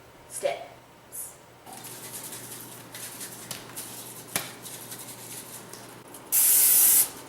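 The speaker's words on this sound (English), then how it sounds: "Pan spray." An aerosol can of cooking spray hisses in a long, steady spray burst onto a baking pan near the end, after some light clattering and rustling of kitchen handling.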